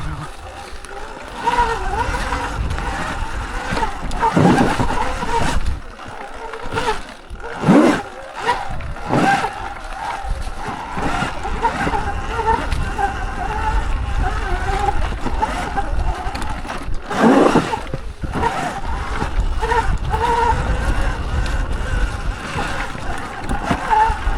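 A Surron electric dirt bike in sport mode climbing a backyard trail hill, its motor whine rising and falling under loud wind rush and rough bumps, close throughout with brief surges of power.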